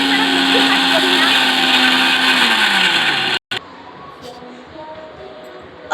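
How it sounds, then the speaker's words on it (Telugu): A mixer grinder blends mint, coriander and green chillies, a loud steady whine with a falling motor tone that cuts off abruptly, then a quieter low hum continues. "ఇప్పుడైతే మనం మిక్సీ పట్టుకుంటున్నాం."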